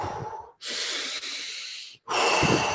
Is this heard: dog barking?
no